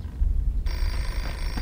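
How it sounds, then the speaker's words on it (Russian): A telephone rings in a horror video game, the ringing cutting in abruptly after a low rumbling hush and continuing steadily, fairly close and clear with no voices. "Почему он звонит?"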